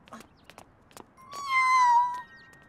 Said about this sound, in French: Oh, un chaton.